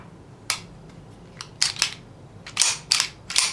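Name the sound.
handling a Kimber Raptor .45 ACP pistol, checking magazine and chamber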